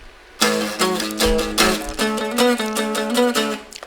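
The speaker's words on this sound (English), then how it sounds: "A guitar sound like this." A short burst of bright guitar strumming and picked chords starts after a brief silence, lively and rhythmic, with no one talking.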